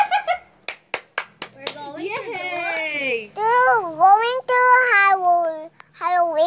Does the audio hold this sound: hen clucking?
no